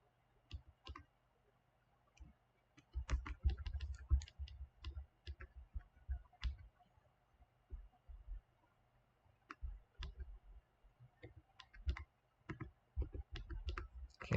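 Plastic calculator keys are pressed in quick irregular bursts of clicks and taps, close and fairly quiet, with short pauses between runs of keystrokes and no talking.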